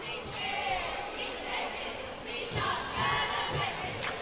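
A crowd at a high school basketball game, a steady murmur of many voices with scattered shouts, whistles and a few ball bounces, while commentators talk over it.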